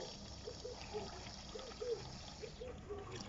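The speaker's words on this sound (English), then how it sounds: "it's important to just pour a little bit of the bonding liquid into the bucket" Bonding liquid is poured into a bucket while making a pond, producing a faint, steady trickling stream with a few small gurgles.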